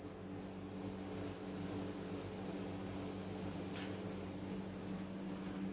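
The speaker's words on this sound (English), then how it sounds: "Will this cricket live or will this cricket die?" A cricket chirps in a steady, regular rhythm of short pulses, fairly faint and alone over a low background hum.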